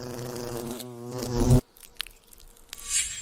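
Hornet buzzing close by, a loud droning hum that rises and then cuts off abruptly, followed by a few quieter scattered rustles and ticks.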